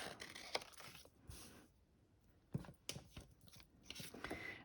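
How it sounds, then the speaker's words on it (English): Scissors snip through paper up close, a handful of crisp, irregular cuts separated by brief pauses of near silence. "Long-handled scissors are great because you can actually do a fair bit of cutting"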